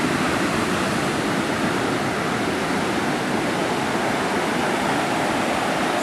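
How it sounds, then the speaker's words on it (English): Heavy ocean surf along the Sri Lankan shore roars as a broad, continuous wash of crashing water, loud and close, with no voices over it. "God, look at the size of that wave."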